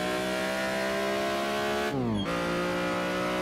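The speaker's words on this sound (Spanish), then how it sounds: "Me encanta el sonido de este BMW." A BMW CSL race car engine in Assetto Corsa howls at high revs, loud and close, with a brief dip in pitch at a quick gear shift before it climbs again.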